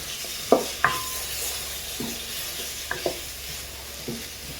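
Carrot and capsicum pieces get stirred in a pan, a few distinct scraping and clinking strokes of a spatula over a low background sizzle, close by and without speech.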